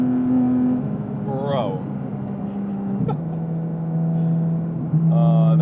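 A Porsche Cayman GT4 RS engine howls at high RPM as a sustained droning tone that steps down in pitch through gear changes, while someone talks excitedly over it from inside the car.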